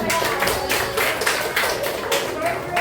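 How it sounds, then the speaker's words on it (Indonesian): A group of psychology students clapping during introductions, with scattered, uneven claps tapping out irregularly at moderate loudness and some voices mixed in underneath. "kasih tepuk tangan dulu dong"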